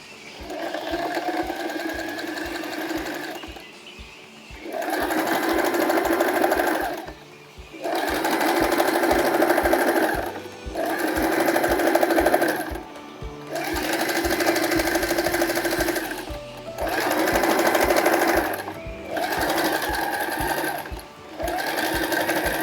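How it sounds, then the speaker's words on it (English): Sewing machine running a zigzag stitch, loud and close in six or seven steady bursts separated by short pauses with faint clicks, no voices over it. "I'm gonna run a zigzag stitch on both sides"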